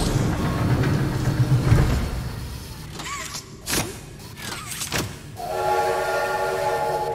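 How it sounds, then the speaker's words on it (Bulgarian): A train whistle sounds briefly amid low mechanical rumble and clanking in the Poppy Playtime video game, followed by a steady humming tone. "Преди това мога да карам влака."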